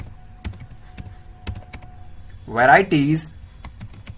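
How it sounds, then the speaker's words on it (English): Sporadic keystrokes on a computer keyboard sound close and distinct while HTML table data is typed, with a brief spoken word partway through. "Similarly we will type the same table data"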